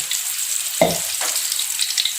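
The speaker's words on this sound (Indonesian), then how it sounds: "ini kita tumis yaitu bahan bumbu yang kita blender" Blended spice paste sizzles and fries steadily in vegetable oil, close and loud, with a couple of brief stirring scrapes partway through and no voices.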